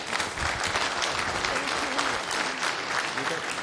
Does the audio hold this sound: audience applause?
yes